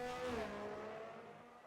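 Race car engine in a racing video game on a qualifying lap, a sustained tonal engine whine that holds steady and then slowly fades, fairly quiet throughout.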